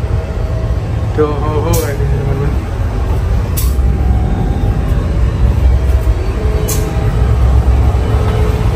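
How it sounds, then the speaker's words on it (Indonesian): Aboard a Tumapel local train, another train rumbles past on the neighbouring track, steady loud low-frequency roar with a few sharp squeals and clanks, while someone talks and laughs over it. "Dan kita nih berpapasan dengan kereta"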